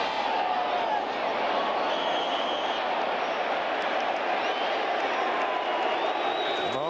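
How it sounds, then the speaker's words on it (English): A football stadium crowd boos during a 1984 Raiders at Lions game, a broad, steady roar of massed voices held at an even level for the whole stretch. "Oh, they're booing"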